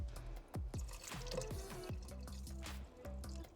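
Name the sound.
pouring beef broth from a bottle into chili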